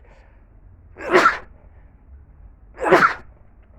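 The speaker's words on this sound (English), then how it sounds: "Why am I sneezing so much?" Two loud, close sneezes about two seconds apart, each a sharp burst standing alone over a quiet background, with a single word spoken near them.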